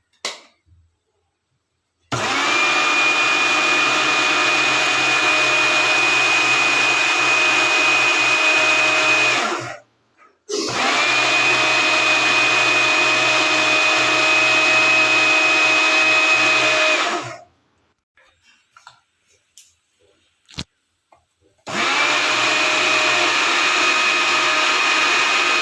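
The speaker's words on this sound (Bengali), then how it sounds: "তৈরি করার মেশিন না থাকে তাহলে মিক্সার গ্রাইন্ডারেও এটা তৈরি করে নিতে পারবেন" A kitchen mixer grinder grinds cumin seeds at home, running in three long, steady, loud whirring bursts separated by brief silent pauses, with a few small clicks between the second and third runs.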